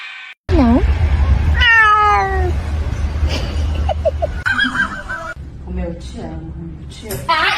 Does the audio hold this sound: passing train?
no